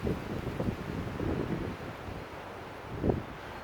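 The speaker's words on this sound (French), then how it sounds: "Il y a du vent, je ne sais pas si tu m'entends." Gusty outdoor wind buffets the microphone in low rumbling surges, with a stronger blast near the end, and no voice.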